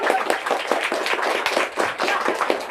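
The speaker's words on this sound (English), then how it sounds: "Give a round of applause to this guy." Audience applause after a talk by comics author Briana Loewinsohn with Gene Luen Yang about Ephemera: dense steady clapping from a crowd that holds for the whole stretch, fairly loud and close, with no voices over it.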